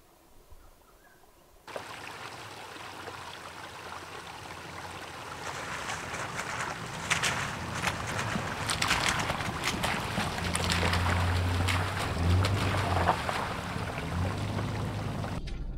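River water flows in the Waterberg mountains, a steady, fairly loud rushing that starts abruptly and carries on, with low rumbling gusts on top, no voices.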